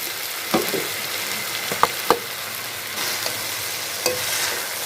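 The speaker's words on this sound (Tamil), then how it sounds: "ரைஸ் போட்டு எல்லாம் ஒன்றா கிண்டிக்க வேண்டியதான்." Rice stirred in a pan with fried onion, tomato and capsicum, a steady close sizzle with a few scraping spoon strokes against the pan.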